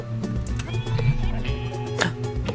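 A horse in the video game Zelda: Tears of the Kingdom gives soft hoof clops and a brief whinny, close and moderately loud, mixed with game music and ambient bird calls.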